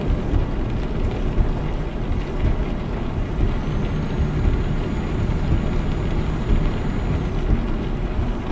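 Rain in Euro Truck Simulator 2 falls as a steady, dense hiss with a low rumble underneath, constant and fairly loud throughout with no talk.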